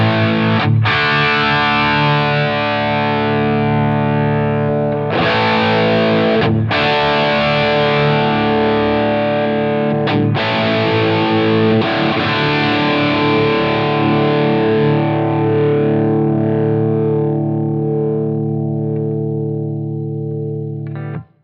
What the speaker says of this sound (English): if we were to bring up the wow and flutter to a high setting